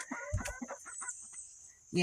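Chickens cluck in short bursts close by, several quick calls in a row, with a steady high-pitched hum running underneath.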